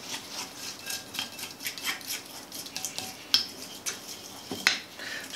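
Palette knife mixing grey oil paint, a steady run of soft scraping and smearing strokes with a few sharper metallic clicks and taps, close and quiet, with no speech.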